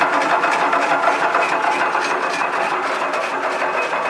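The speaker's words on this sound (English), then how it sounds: "It's a twin roll machine. We've reconditioned it obviously." A reconditioned Fitzpatrick twin roll size reduction mill with chipping knives on its rollers, bronze bushings and a 7.5 horsepower motor runs steadily, a loud continuous mechanical drone and whir heard close up, with no voices.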